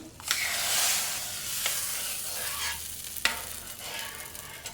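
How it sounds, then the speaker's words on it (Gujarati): Sizzling tadka of garlic and red chili powder in hot oil for Gujarati dal fry, stirred in the pan: bright, loud frying hiss broken by a few sharp scrapes and clinks of the spoon, no talking. "તો સરસ તડકો લગાવી દીધો."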